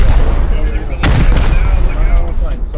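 Rockets explode during a video game raid: a sharp boom around the one-second mark, a weaker second blast soon after, over dense rumbling battle noise and faint background voices.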